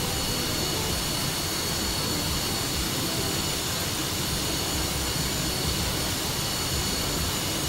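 MiG-28 jet in a video game, its engine a steady, loud broadband roar with a thin high whine, continuous and alone.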